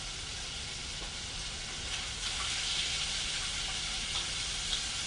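Okra and other vegetables sauté in a hot pan with a steady, close sizzle and crackle that swells slightly partway through, with no talking over it.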